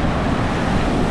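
Sea water surging and spurting from a rock hole at low tide on a rocky shore, a loud, steady broadband rush of churning water with wind noise.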